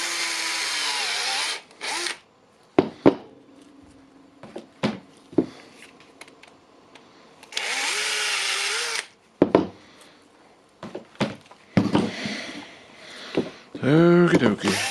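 A power drill whines in repeated bursts, drilling out security screws on a Bosch ProCore battery pack, spinning up and down between pauses, with sharp clicks and knocks in the gaps.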